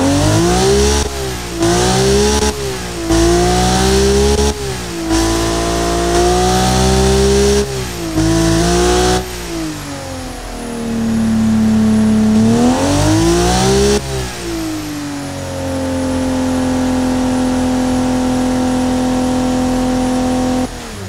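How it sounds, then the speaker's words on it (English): A track car engine with a carbon fiber intake manifold and six individual throttle bodies, in the BeamNG driving game, revs repeatedly in rising and falling bursts, then holds a steady loud drone through the exhaust, close and clear without talk. "you can hear the true note of the exhaust."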